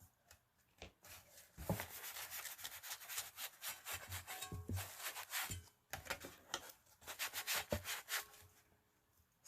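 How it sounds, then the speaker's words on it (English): Paint on a Dollar Tree metal pumpkin yard sign is buffed back and distressed, giving close, uneven scrubbing and rubbing strokes in irregular bursts. "Not letting that paint sit on there too long before I buff it back out."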